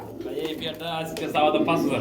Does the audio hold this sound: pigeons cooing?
yes